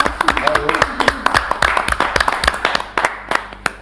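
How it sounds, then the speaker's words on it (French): Scattered clapping on a television awards show set, distinct sharp claps from a small group in an uneven, quickening rhythm, thinning out near the end, with a voice talking over the top. "Bravo, applaudissements."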